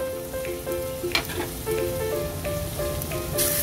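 Fish sizzling in a hot pan with cooked garlic, onion and tuyo, a steady close frying crackle with scattered pops and light stirring sounds, no one talking.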